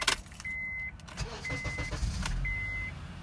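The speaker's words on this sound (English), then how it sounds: "turn the car on." A car with a Viper 5706v remote start system starts up, with short alarm beeps and jangling keys around the brief engine crank and idle that follows, fairly close.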